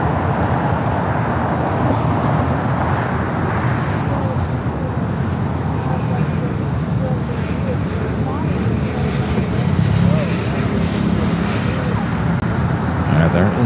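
An Emirates Boeing heavy airliner rolls on runway 25 Right at LAX, a broad steady roar and rumble that holds throughout with a slight swell near the end, with faint voices in the background.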